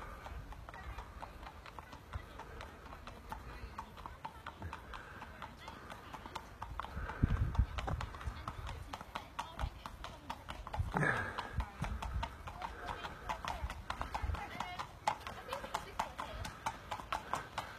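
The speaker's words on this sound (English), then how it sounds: "Now the horses." Horses' hooves clip-clop along the beach at Mersea in a steady, uneven patter, close and fairly loud, while people talk in the background and a brief louder knock breaks through midway.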